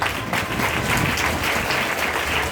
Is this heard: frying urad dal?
no